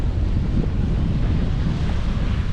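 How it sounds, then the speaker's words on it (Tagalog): Strong sea breeze rushing across the microphone on the Red Sea shore at Aqaba, Jordan, a steady low rumble with surf-like wash underneath, continuous and close. "ang ganda ng simoy ng hangin lakas"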